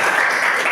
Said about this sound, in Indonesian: tepukan untuk M. Stio